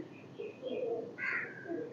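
Pigeons coo softly in a few short, low, rounded calls close by, with a brief higher chirp among them and no talking.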